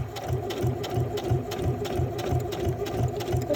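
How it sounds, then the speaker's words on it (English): A sewing machine stitches faux leather at a low regulated speed, a close, steady, evenly paced chugging of the needle that repeats several times a second without pause. "we're just going to sew. I like to sew slow. My machine will go really fast"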